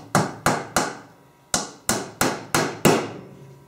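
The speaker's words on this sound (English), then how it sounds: "nail that in on both sides" Hammer strikes driving a 1 to 1 1/4 inch nail into a wooden 9 1/8 inch Langstroth beehive frame: eight sharp, ringing knocks in uneven pairs and runs, each decaying quickly, close and clear with no talking.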